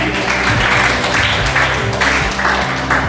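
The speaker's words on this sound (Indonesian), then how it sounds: "Terima kasih, tepuk tangan dulu terus." Applause from students at a school leadership training camp, dense clapping filling the room at a steady level with some murmured voices mixed in throughout.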